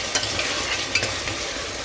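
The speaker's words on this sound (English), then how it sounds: "We are going to saute our onions until they're golden brown" Onions sauté in a little oil in a pot, giving a steady close-up sizzle broken by light scraping strokes as they are stirred.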